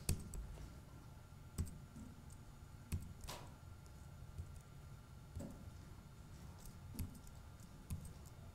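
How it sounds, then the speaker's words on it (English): Arrow keys on a computer keyboard are pressed one at a time, a few sharp, quiet clicks spaced about a second apart over a faint room hiss. "use the arrow keys on my keyboard to cycle through my images"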